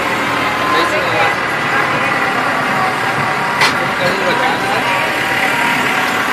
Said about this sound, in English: Literally pulled by a tractor.